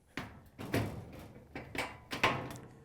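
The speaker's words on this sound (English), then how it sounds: "you can lift up on the door and pull it out of the frame" A gas oven door on a Whirlpool, KitchenAid or Maytag range being lifted and pulled from its frame: a series of separate metallic clunks and knocks, close and moderately loud, with no talking.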